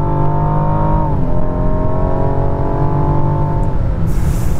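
A widebody Rolls Royce Wraith Black Badge with a 717 hp engine pulls under hard acceleration, its steady loud engine note rising, dipping with a gear change, then rising again, close and continuous with no talk.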